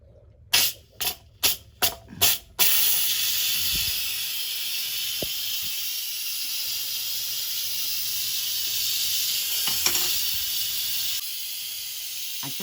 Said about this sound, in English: I'm going to take my wooden spoon and turn the little button to venting